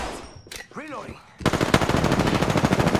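Rapid automatic gunfire in Apex Legends, a close, loud stream of rattling shots that starts abruptly and runs continuously, preceded by a brief voice and game chirps.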